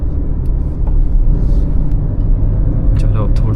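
A Hyundai i20 Elite's engine hums steadily as the car climbs a narrow forest road near Shimla, a close, continuous low drone with brief rattles over it.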